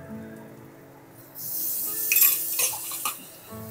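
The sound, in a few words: ginger garlic paste frying with onions in a pan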